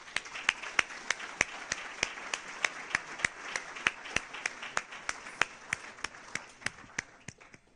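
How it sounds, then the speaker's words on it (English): Sparse applause from an audience at a talk on UFO crash retrievals, a few distinct hand claps keeping a steady rhythm over nearly eight seconds at moderate loudness, with no voices. "I'd like to give a round of applause to these people who have worked for the last 40 minutes"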